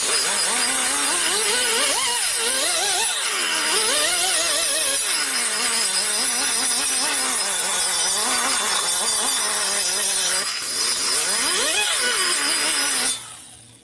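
A power tool blends and deburrs a part of a 1941 Harley-Davidson WLD 45 flathead engine, a 56ci stroker build, with a steady high-pitched grinding whine whose pitch rises and falls as the tool moves, continuous and close for the whole stretch.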